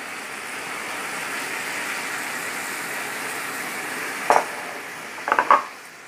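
Fried potato and cauliflower being sautéed with spices in a pan, a soft steady sizzle with a few clinks of utensil on the pan near the end.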